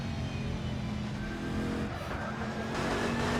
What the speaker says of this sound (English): the Lexus is still so loud